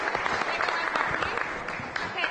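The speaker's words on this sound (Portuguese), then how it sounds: "mais aplausos, pessoal" Audience applauding in a room, dense and fairly loud clapping from many hands that continues throughout, with voices faintly mixed in underneath.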